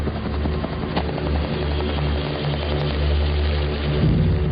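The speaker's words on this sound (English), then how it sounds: "As the choppers pass overhead" Military helicopters pass overhead during a search for an evading patrol in dense bush, their rotor thump a steady, loud, continuous drone that swells slightly toward the end.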